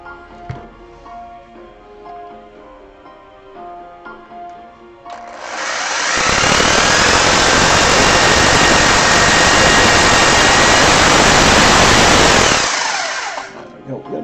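A loud, steady whirring drill runs for several seconds close by, starting abruptly and cutting off, with quieter handling noise before and after.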